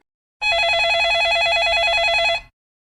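A telephone rings with a single electronic warbling trill, loud and close, starting abruptly and cutting off after about two seconds, with no voices.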